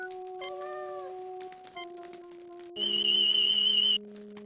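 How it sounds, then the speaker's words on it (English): Ordinary house cat meowing in the Star Trek Judgment Rites video game, a few short tonal meows over steady synthesized game tones, clear and close, no talking. "An ordinary house cat,"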